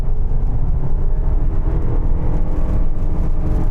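Steady, low engine drone from a luxury van with a CVT gearbox held at slow speed, a constant close rumble with no gear changes, alone without talk.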